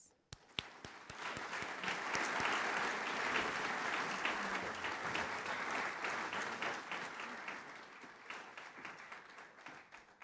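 An audience at a history lecture on Napoleon applauds to welcome the speaker, a full wave of clapping that swells quickly, holds steady and then thins out into scattered claps near the end, heard from within the room.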